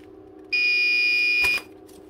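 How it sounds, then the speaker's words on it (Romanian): A Busch-Jaeger bathroom panic alarm for people with disabilities gives a single loud, piercing electronic tone lasting about a second, sounding alone against a quiet background hum. "Se poate schimba stilul de alarmă, are 3 stiluri"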